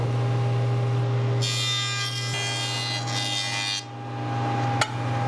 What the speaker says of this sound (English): I'm just going to run these through the joiner just to kind of square them up.